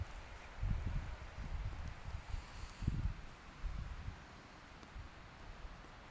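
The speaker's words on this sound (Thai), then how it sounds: "ลมแรงอ่ะ อากาศหนาวแล้วเนี่ย เห็นไหมลมแรงมาก" Strong, gusty wind sweeps through leaves outdoors on a cold day while foraging for yellow chanterelle mushrooms, a continuous low rush swelling in several loud gusts with rustling on top, no voices.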